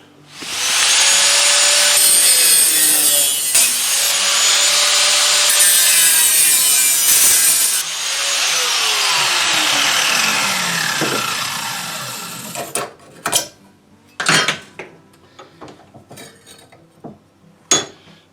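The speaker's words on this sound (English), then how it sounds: "I decided that I would try to cut it with my angle grinder" Angle grinder cutting through a metal fire pit grate: a loud continuous shrieking grind with pitch sweeps for about twelve seconds, then stopping, followed by scattered metallic clanks and scrapes.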